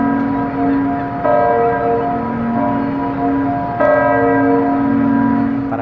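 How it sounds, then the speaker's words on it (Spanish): Church bells ringing in Nicaragua, a loud, sustained metallic hum with fresh strikes landing roughly every two and a half seconds, the tones ringing on between them with no voices. "Para cuando ella inaugure su campanario, nadie más puede tener campanas en Nicaragua."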